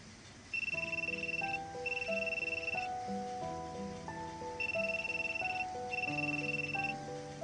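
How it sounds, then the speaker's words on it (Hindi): A telephone ringtone playing in a home drama scene, a repeating electronic melody of bright tones in regular phrases, clear and steady throughout. "बेटा, फोन उठा लो।"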